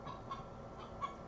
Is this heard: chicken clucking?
yes